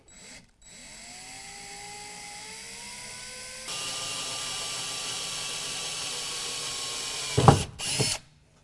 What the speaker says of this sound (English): When you drill that hole, just make sure it goes through the very first layer of the steel tubing underneath